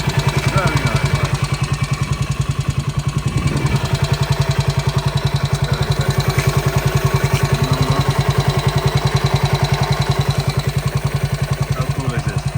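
A vintage Benelli 125 Sport Special motorcycle idles close by with a fast, even, pulsing putter and light mechanical clatter, running steadily and loud throughout.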